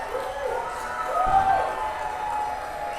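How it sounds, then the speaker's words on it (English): Apple employees give a farewell clap out, a dense crowd of applause and cheering that swells and stays steady, with a brief whoop over the continuous clapping. "This is how employees from Apple are farewell. They do a clap out"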